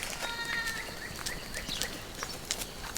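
Goats on a farm bleat repeatedly, loud nearby calls overlapping in short bursts over a steady outdoor background.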